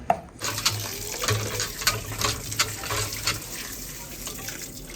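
Raw chicken washed under a running kitchen tap, a continuous splashing water stream with occasional knocks and sloshes close by, no talk.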